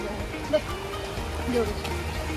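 Cold mountain stream in Manali, rushing downhill toward a river, gives a steady broadband wash of flowing water close by, with faint voices in the background.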